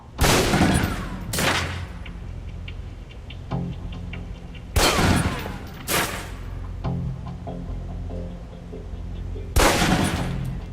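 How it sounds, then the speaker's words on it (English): Loud pistol shots fired at a target in a video game, a few sharp reports spaced several seconds apart over a steady game background. "Equip the pistol, then aim down range and take some shots at the target."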